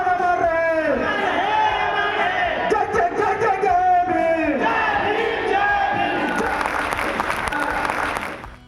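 A large crowd fills a packed pandal at a women's conference in Ghazipur, with loud sustained applause, cheering and shouting voices blending into a dense roar that swells and ebbs, then tapers off toward the end.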